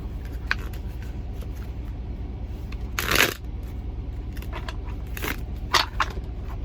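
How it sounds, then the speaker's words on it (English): Tarot cards being shuffled close by, soft riffling and crackling taps with a few sharper bursts, against a steady low background hum. "let me shuffle my cards again"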